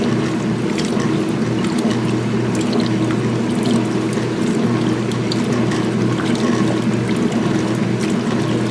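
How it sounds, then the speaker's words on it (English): Water gushes steadily into a washing machine tub in a continuous, loud rushing pour with a low hum beneath, unbroken for the whole stretch. "you see the water rush in through the holes"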